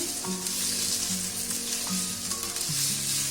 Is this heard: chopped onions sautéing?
yes